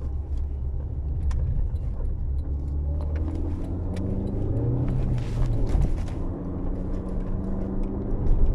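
A 136 hp petrol Citroën Xantia Exclusive accelerates gently from inside the cabin, a steady low engine hum rising slightly in pitch, with faint rattles and interior noises over the drone.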